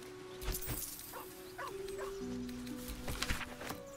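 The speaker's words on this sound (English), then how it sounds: "The dog sniffs your hand, his tail swung low in understanding." A dog in the video game Baldur's Gate 3 whines and whimpers softly, with a few short yips over a faint, quiet game background.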